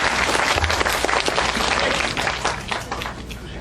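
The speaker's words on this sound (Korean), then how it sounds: "큰 박수로 맞이해 주시기 바랍니다" An audience gives a lecturer a loud, sustained round of applause as he is welcomed to give a talk, a dense roar of clapping that eases slightly partway through.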